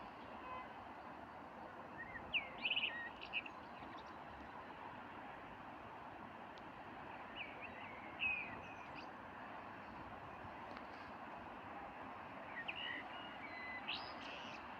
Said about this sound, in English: The birds are singing quite loud tonight, so I just want to end today with some bird song for you.